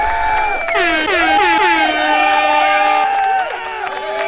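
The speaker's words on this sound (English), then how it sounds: "like that air horn sound" Loud air horn blasts blare in a rapid, warbling series at a stand-up comedy show, with a crowd cheering underneath, before the horns cut off.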